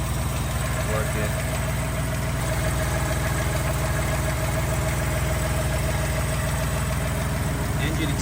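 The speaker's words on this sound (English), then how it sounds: "Engine itself showing very healthy idle." A 1958 Lancia Aurelia B20S GT Series VI idles steadily, a low, even engine rumble with a constant mechanical hum held throughout at close range, with no other sounds standing out.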